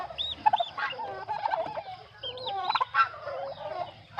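Domestic turkeys and geese call in a provincial yard, with repeated gobbles, honks and clucking overlapping at close range and no talking.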